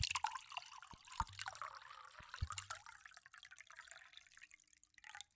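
Liquid poured from a container in a quiet room, a trickling, dripping stream with small splashes lasting several seconds, close and fairly soft, with no one talking.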